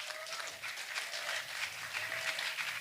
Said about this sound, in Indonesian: Tepuk tangan buat adik-adik dulu.